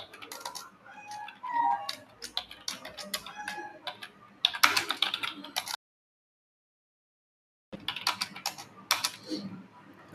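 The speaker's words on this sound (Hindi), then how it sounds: "इस तरह से हम चलिए टाइप करते हैं" Rapid bursts of typing on a computer keyboard during a Hindi typing test for a data-entry exam, dense clatter of keystrokes broken by a few seconds of silence before resuming, close and fairly loud.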